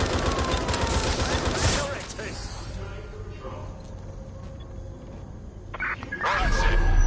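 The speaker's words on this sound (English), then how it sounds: "I'll shoot!" Gunfire in the video game Watch Dogs Legion, loud rapid bursts opening the clip, then a quieter stretch before more shots rise near the end, with voices talking in between.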